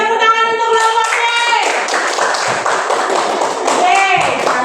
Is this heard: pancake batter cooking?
no